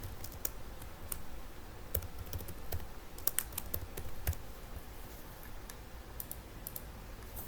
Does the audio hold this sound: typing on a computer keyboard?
yes